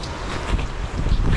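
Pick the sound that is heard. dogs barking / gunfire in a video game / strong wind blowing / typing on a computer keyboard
strong wind blowing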